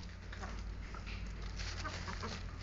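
Chickens, hens kept for breeding, cluck softly amid steady low farmyard noise as beach sand mixed with crushed shell is scattered for them; the clucks are faint and scattered across the whole stretch.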